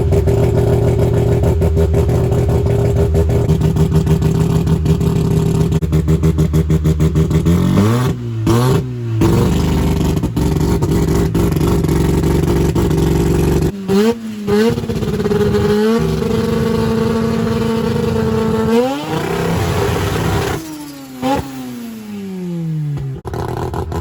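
A boosted 13B rotary engine car on its first test hit blips and revs hard in repeated bursts, loud and close, with a choppy idle between pulls and some talk mixed in.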